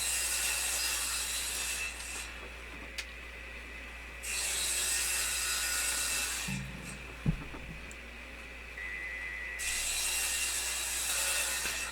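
A saw cuts through wood while the edges of a table are trimmed: long, steady rasping runs stop and restart across several separate cuts, with a brief knock between them and no speech.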